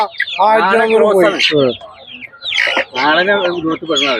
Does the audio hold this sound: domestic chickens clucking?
yes